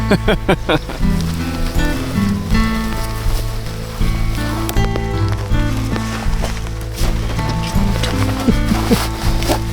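Steady rain patters on a surface throughout, dense and continuous, with scattered louder drops and knocks close by, outdoors on a turkey hunt.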